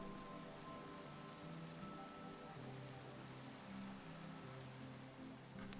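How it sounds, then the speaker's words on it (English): Steady, soft rain patters continuously in the Minecraft video game, a faint, even hiss of falling drops with some quiet low tonal background underneath. "Do you guys want louder rain sounds or quieter rain sounds?"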